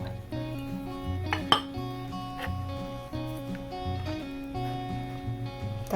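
Metal spoon clinking and scraping around a pot while sugar is stirred into a maja blanca mixture, a busy run of close, bright clanks and rattles with no talking.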